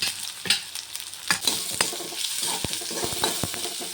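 Onions frying in sizzling ginger-garlic paste in a pan, a steady crackle with repeated scraping strokes of a spoon stirring, close and moderately loud, no talking.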